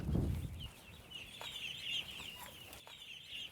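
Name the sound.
young chickens clucking in a brooder house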